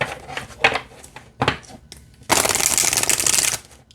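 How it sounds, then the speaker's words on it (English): Oracle cards are handled in a few short papery riffles, then shuffled in one continuous bright, crisp flutter lasting about a second, up close and without talk. "All right, let's shuffle."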